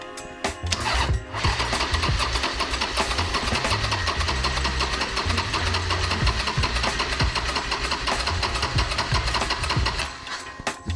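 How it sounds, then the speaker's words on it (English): A Harley-Davidson Sportster engine, a wrecked bike under repair, cranks over on the starter with its spark plug leads disconnected, giving a loud, steady mechanical churning and rapid rhythmic knocking that runs throughout without firing. "We'll give it a crank over here."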